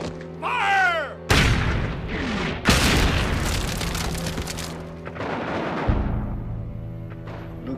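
Cannon fire blasting open gates in a 2002 western film battle scene, heavy booming blasts with crackling debris and rumbling aftermath, preceded by a brief shout, loud and dense throughout.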